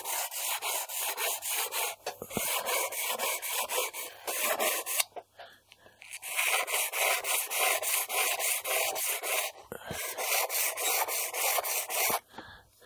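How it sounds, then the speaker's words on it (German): Steady abrasive sanding of a carbon and Kevlar model glider rudder, with continuous gritty rubbing strokes in long passes, broken by a few short pauses, close and fairly loud with no talking. "ihr braucht nicht Angst haben, dass ihr das Kevlar leicht durchschleift"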